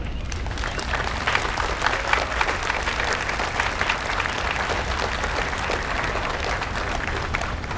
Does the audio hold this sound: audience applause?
yes